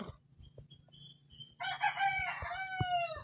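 A late-maturing young Shelton Roundhead rooster crows once, loud and close, with a drawn-out cock-a-doodle-doo that ends in a falling tone, after a quiet start with a few faint clucks.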